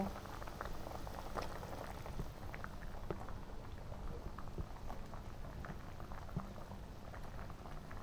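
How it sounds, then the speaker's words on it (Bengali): Sugar syrup for balushahi boils steadily in a pan, a continuous dense bubbling and popping that carries on unbroken throughout at moderate level, with no talking. "এখানে চিনির রসও ফুটছে"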